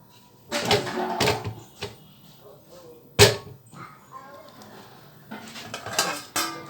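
A metal lid clanks onto a cooking pot in a home kitchen during mutton biryani preparation, one sharp clatter standing out among several nearby dish and utensil knocks, with faint background noise between them.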